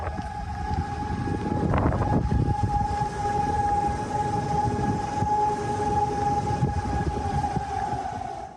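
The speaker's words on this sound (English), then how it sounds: "You have sirens even now already warning folks tonight of more of these twisters potentially headed for them" Tornado warning sirens wail across the South, a steady sustained tone with a rising pitch near the start, heard alone over a dull background rumble.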